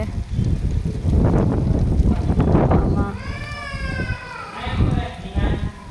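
Strong gusty wind during a light drizzle in a village storm with lightning buffets the microphone as a heavy, low rumble that swells and eases, while a person talks over it.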